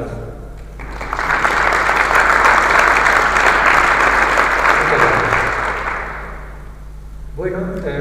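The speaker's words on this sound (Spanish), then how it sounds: "Así que yo me atrevería a pedir un aplauso para Robin Caynor" Audience applause at a public astronomy lecture on Pluto and Ceres, swelling quickly into loud, sustained clapping that holds for several seconds and then tapers off before a voice resumes speaking.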